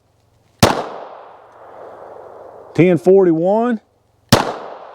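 .22 LR rifle shots from Remington Thunderbolt ammunition: two sharp, loud cracks about four seconds apart, each with a short decaying tail, and a brief spoken phrase between them.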